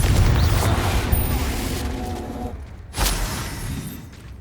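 A Confringo spell explosion in Hogwarts Legacy lands as a heavy low boom that rumbles and decays, followed by a second sharp burst about three seconds later.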